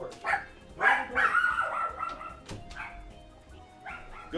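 A dog barks and yips excitedly indoors, with several sharp, close barks and some whimpering between them, and no talking over it.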